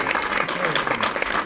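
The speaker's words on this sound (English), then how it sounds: "applause." An audience at a cinema Q&A session in a Regal Cinemas theater claps steadily, a dense, even patter of many hands filling the room for the whole short stretch.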